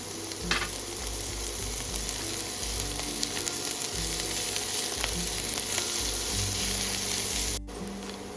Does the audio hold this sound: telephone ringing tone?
no